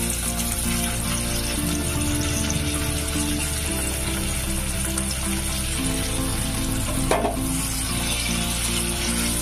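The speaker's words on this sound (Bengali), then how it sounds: "ঘিটা দিয়ে দেওয়ার পরেই আমি দিয়ে দিচ্ছি ম্যাশ করে নেওয়া সুইট পটাটোটা।" Mashed sweet potato fries in ghee for sweet potato halwa, a steady close sizzle with a brief scrape of stirring near the end and no talking.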